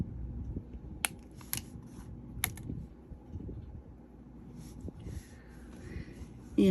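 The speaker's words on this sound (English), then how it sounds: "I'm going to trim that little piece right there." Scissors trimming a small piece of SoftFlex craft material, a few quick faint snips close by, separated by pauses, with light handling rustle and low background hum.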